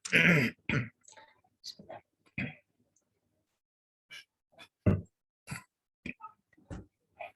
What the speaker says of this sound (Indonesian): Maaf ya kalau sambil batuk-batuk sedikit.